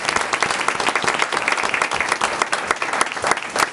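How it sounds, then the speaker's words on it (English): Steady applause from the audience at a city council meeting, dense rapid clapping that lasts a few seconds at close range. "round of applause."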